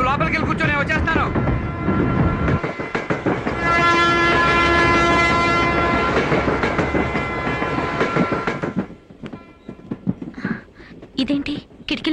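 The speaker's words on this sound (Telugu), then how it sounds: "అయ్యో, ట్రైన్ వెళ్ళిపోతుంది" A passenger train pulls away from a station, its horn sounding a long, steady blast mid-way over the rumble and clatter of the cars, with voices calling nearby.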